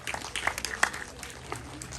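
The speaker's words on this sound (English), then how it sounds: "Let's give Mr. Garcia another round of applause." Faint, scattered applause for Mr. Garcia at a Garifuna community gathering, a brief patter of claps sounding somewhat distant and thin.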